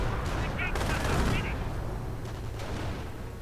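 A Nebelwerfer rocket barrage mixed with gunfire in a video game, a dense, continuous roar of blasts and shots that swells around the first second and then stays heavy and steady to the end.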